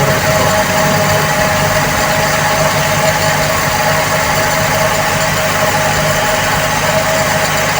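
A carbureted Toyota 2E engine idles at around 1,500 RPM, a loud, steady mechanical hum with a constant rhythmic throb recorded close to the engine bay, no voices.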